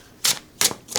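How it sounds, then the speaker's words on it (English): Overhand shuffling of a new, slightly slippery tarot deck, giving three short, crisp papery riffles spaced evenly apart, close and fairly loud with quiet gaps between. "Okay, overhand shuffling is fine."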